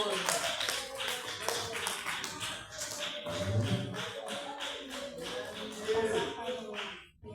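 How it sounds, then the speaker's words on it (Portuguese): A church congregation claps in praise to the Lord in a fast, steady rhythm, many hands together at a fairly constant level, with voices mixed in underneath. "Palmas ao Senhor."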